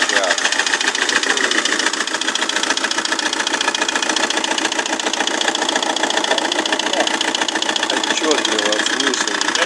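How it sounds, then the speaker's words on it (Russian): A rebuilt Chinese Perkins-replica diesel engine in a Foton truck runs steadily at idle, loud and close, with a fast, even ticking of valve knock riding on top of the engine noise throughout. "клапана стучат."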